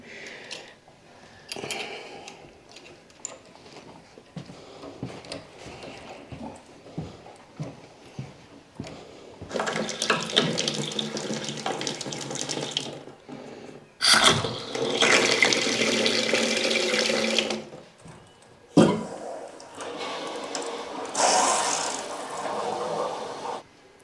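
A newly fitted toilet flushes in bursts, each a loud rushing surge of water followed by running and refilling sounds, with quieter clicks and handling noises between flushes.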